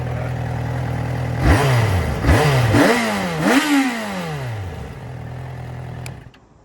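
A 2009 Yamaha FZ6R four-cylinder motorcycle idles up close, then revs loudly three times in quick succession, each blip rising and falling before it settles back to a smooth idle.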